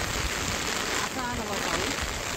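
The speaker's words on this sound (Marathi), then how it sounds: "आता आला बा पाऊस." Steady rain pours down around a farm hut in the village during a summer downpour, a dense continuous hiss with a faint voice briefly audible beneath it.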